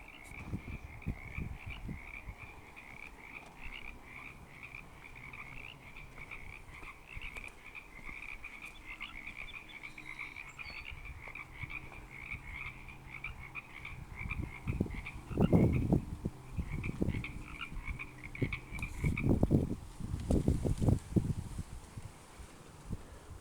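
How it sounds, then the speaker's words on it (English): A chorus of Baja California chorus frogs croaks continuously outdoors at a neighborhood park, a steady rhythmic trilling with louder, closer croaks bursting in later over faint wind and rustling. "those frogs are going insane"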